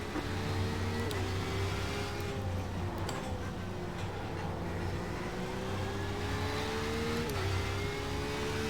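GT3/GTE race car engines in an IMSA race in iRacing, a close, loud engine drone rising and falling through gear shifts, with other cars roaring nearby.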